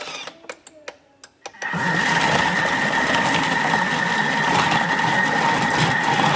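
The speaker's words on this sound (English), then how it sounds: "I'm just going to blend that for a couple of minutes on speed 4" A Thermomix blends buttercream on speed 4: a few light clicks and knocks, then a loud, steady motor whir with a sustained tone that starts abruptly and runs evenly to the end, with no voices.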